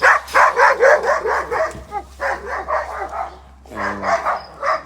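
Several dogs bark repeatedly and excitedly nearby in a steady volley, with a brief pause before more barking and yipping resumes.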